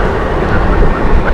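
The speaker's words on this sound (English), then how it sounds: "We've got an A380." Airbus A380 airliner at Heathrow Airport, a steady broadband jet roar filling the whole moment at close, loud range with no break.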